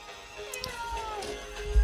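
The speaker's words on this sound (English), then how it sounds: "Kitten." A kitten gives a couple of short, high meows at close range, faint and brief, with some low background noise.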